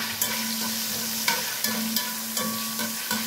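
Garlic fries in a pan with a bright, continuous sizzle. A utensil stirs it in a regular rhythm, adding soft scrapes about every third of a second, close and fairly loud, with no talking.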